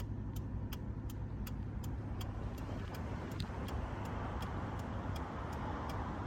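Engine of a 2001 Mitsubishi Lancer Coupe, revived after sitting abandoned for four years, idling steadily with a continuous low rumble and a faint regular ticking throughout.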